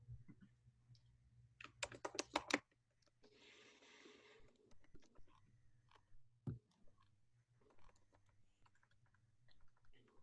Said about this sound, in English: I'm typing it now.